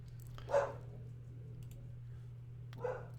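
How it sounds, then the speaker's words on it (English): A dog barks twice, a few seconds apart, at a moderate distance over a steady low hum; no one speaks. "Sorry, dog's barking there."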